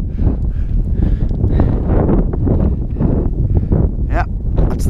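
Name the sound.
wind on a mountain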